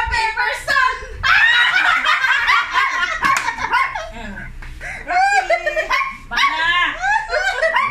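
A small miniature poodle barks and yaps agitatedly in short bursts, close by, mixed with people talking and laughing over it.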